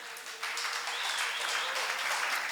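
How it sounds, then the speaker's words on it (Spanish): A church congregation claps in applause for a young man named Moisés, a steady, fairly close burst of many hands that swells after a brief start and continues evenly to the end. "Un aplauso para Moisés."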